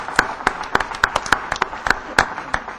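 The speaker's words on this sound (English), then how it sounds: "I would like to give a clap from all of us to the organizers" An audience at a university positive psychology talk clapping for the organizers, with distinct sharp claps spaced in a steady rhythm, close and fairly loud.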